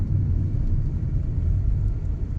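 A Mitsubishi Outlander cruising at about 80 km/h, heard from inside as a steady, smooth low rumble of road and engine noise, continuous and even with no voices.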